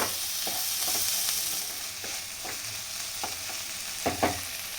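Whole spice masala roasting in a hot pan for egg tawa masala, a steady close sizzle with a few scraping stirs and small sharp ticks, no talk.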